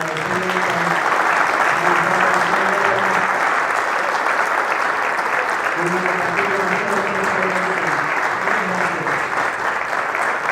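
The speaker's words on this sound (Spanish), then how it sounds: "Le damos un fuerte aplauso" An audience at a conference about Argentine armed forces in the war applauds, sustained dense clapping throughout, with a voice speaking over it at the start and again midway.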